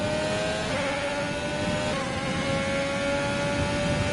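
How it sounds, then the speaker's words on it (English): A Ferrari Formula 1 car engine in the video game F1 2020 drones steadily and loudly, its tone dipping slightly as it eases off, with a continuous mechanical roar throughout. "when the Ferrari is slowing down, just the bogging and it's like boom, boom, boom"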